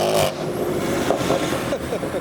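A modified Ford Fiesta with blue exhaust tips revs at a busy car meet, a close throaty engine rising in short bursts amid traffic noise, with some talk in the background.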